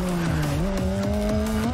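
In the NFS ProStreet racing game, a car engine revs hard with rising tones and a gear change partway through, as tires squeal faintly beneath the steady, loud engine note, with no voices.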